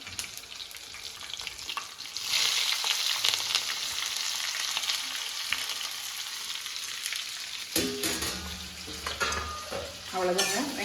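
Onion and green chilli frying in a pan, a steady loud sizzle with stirring and scraping throughout, no voices.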